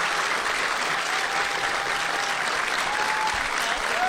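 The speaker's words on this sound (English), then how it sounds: "give me a round of applause if you've ever heard our show Do Go On before." A live comedy podcast audience gives sustained applause, a dense even wash of many hands clapping that holds steady throughout, full and loud.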